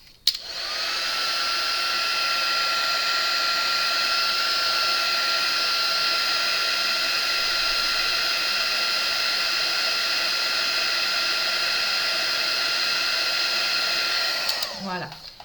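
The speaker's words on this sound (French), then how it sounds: "on accélère le séchage avec mon pistolet chauffant" Heat gun blowing hot air to dry glue, a steady loud whooshing hum that runs unbroken for about fourteen seconds before cutting off.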